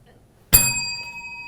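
A quiz game show buzzer bell struck once, a sharp bright ding after a short quiet pause that rings on with a slowly fading metallic tone.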